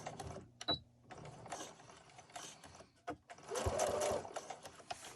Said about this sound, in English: So I'm sewing close to the edge of the mask.